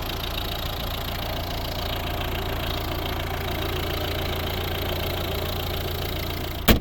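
A 2011 Volvo V60 with a 1.6 D2 diesel engine of Peugeot Citroën design idles steadily with a low, even rumble for several seconds, ending in a brief sharp knock.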